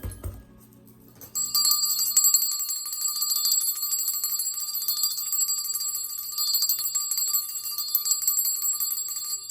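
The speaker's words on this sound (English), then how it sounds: "Let's ring the bell, bring his energy in." A bright bell is struck and left to ring, its sustained metallic tone shimmering steadily and fairly loud for several seconds with no voices.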